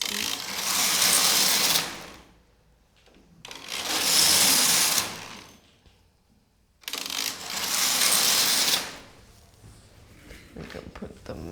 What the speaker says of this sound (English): here we should be picking up the sound of the knitting machine with the contact mic